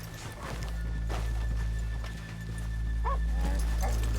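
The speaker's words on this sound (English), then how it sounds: "Okay, let's leave the horses here off the main drag." Horses in Red Dead Redemption 2 move along a town street, with soft hoof clops and footsteps over a steady low rumble, plus a brief whinny-like call near the end.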